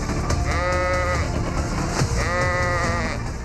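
Goats penned along a roadside bleat in two clear, wavering calls against a constant loud background hum of traffic and crowd noise.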